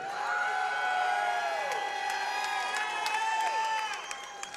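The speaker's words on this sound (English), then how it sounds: "how about a round of applause for these two fighters?" Crowd applause and cheering at a Chosen Few Fighting Championship bout between Brian Imes and Alton Cunningham, a steady wash of clapping and whoops under a sustained ringing tone, fading slightly at the end.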